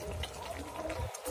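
Liquid pours and splashes steadily while chana dal is cooked with curry leaves, a close, continuous watery rush with a brief dip near the end.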